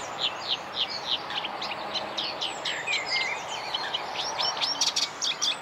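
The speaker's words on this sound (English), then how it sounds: "I can hear this warbler, but I can't see him." A reed warbler sings from within a reed bed, a continuous busy stream of scratchy, chattering chirps and churrs at moderate distance, steady throughout with no voices.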